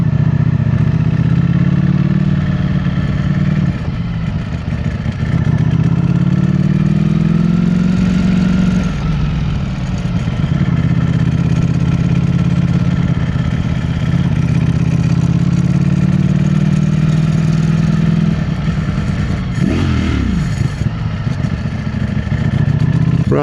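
A Ducati Streetfighter V4 SP motorcycle engine rumbles loud and close for the whole stretch. It holds a deep, continuous drone whose pitch rises and falls gently as the throttle shifts, with no voices over it.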